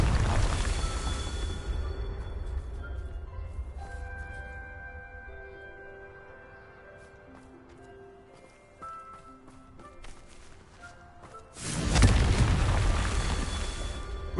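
Deep booming blasts from the Confringo fire spell in Hogwarts Legacy: one heavy rumble at the start, then a second loud explosion later, with quieter tonal game sounds between them.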